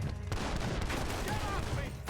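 Gunfire in the video game Red Dead Redemption 2 crackles in a dense, continuous volley with game noise and voices mixed in.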